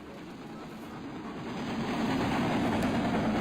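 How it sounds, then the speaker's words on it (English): A steady rumbling video-game train sound in Farming Simulator 19 swells gradually louder as it passes, continuous and broad, with no voices. "Oh, that's a train."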